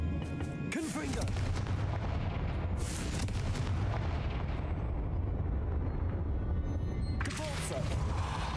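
Confringo fire spell blasts in Hogwarts Legacy, heard as loud booming bursts at the start, middle and end over a continuous rumbling game soundscape.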